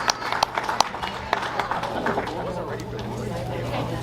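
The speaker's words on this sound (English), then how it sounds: "Give him a big round of applause." A banquet audience at a tractor-pulling association awards event applauds with steady, moderately loud clapping and some crowd murmur, tapering toward the end.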